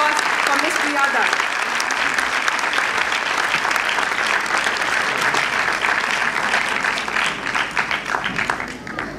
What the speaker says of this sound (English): Ladies and gentlemen, a huge round of applause for Ms. Priya Dutt.